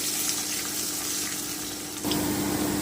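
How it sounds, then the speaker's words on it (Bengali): Potato and carrot frying in a pan with cumin seeds, a dense continuous sizzle that jumps louder and fuller partway through as more vegetables hit the hot oil, close and steady with no talk. "আমি আলুটা দিয়ে দিচ্ছি আমি গাজরটা দিয়ে দিলাম আমি একটু ভেজে নেব"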